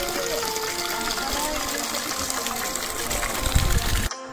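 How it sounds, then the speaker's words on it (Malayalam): Water pouring steadily from the trunks of carved granite elephant sculptures at a stone pavilion on a misty hilltop, a continuous broadband rush that stays loud throughout and cuts off abruptly near the end. "ആനശില്പങ്ങളുടെ തുമ്പിക്കൈകളിൽ നിന്നും വെള്ളം ധാരധാരയായി ഒഴുകുന്നു."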